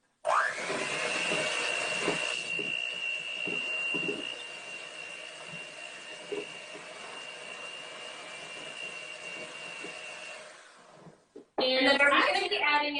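A mixer whirring through banana bread batter with chocolate chips, a steady loud motor drone for about ten seconds that winds down before people talk near the end.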